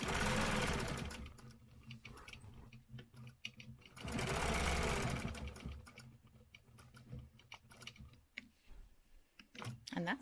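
A sewing machine stitches a stencil design in quick mechanical bursts, its rapid close rattle running for a few seconds at a time with brief pauses between runs.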